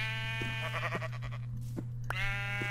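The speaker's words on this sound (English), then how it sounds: "If I end up attacking a sheep and it dies" Sheep in the Minecraft Witchery mod give several short synthetic bleats, close and fairly loud, scattered over a steady low game hum with no talking.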